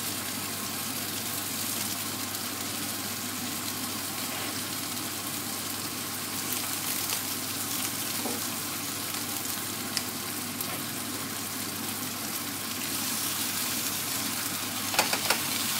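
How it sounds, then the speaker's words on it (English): Rib eye steak sizzles loudly and steadily in a hot frying pan, a constant crackling hiss with a few sharper pops near the end. "So you can immediately see that that's started to sizzle."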